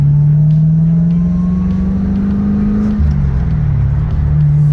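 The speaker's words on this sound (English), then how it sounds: "this is just to show you guys the car runs and drives great" A 1987 Mitsubishi Starion with a swapped LS1 V8 and T-56 manual gearbox pulls away loudly, the engine rising steadily in pitch before dropping briefly at a gear change and climbing again, heard close and continuous.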